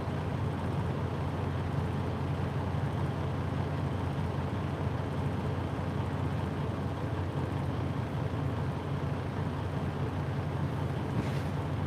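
A parked truck idles with its engine running on a hot day, refrigerated trailers and other trucks humming nearby, a steady low rumbling drone that holds constant without pause.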